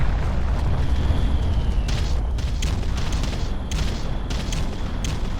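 Artillery bombardment in the strategy game Ground Control lands as a dense run of rumbling booms and bursts, with several sharper blasts close together toward the end.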